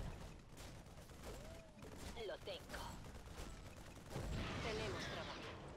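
Kinetic explosions from a StarCraft II battle crackle in rapid bursts like a fusillade, mixed with mechanical whirs and tonal game effects, fairly faint overall and swelling louder toward the end.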